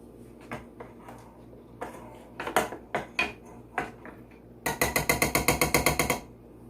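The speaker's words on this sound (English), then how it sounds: "I'm going to give it a stir. Don't know why I'm still stirring with my ladle." Apple butter stirred in a pot with a ladle, scattered knocks and clanks of metal against the pot, then a quick run of rhythmic tapping near the end, close and loud with no talking.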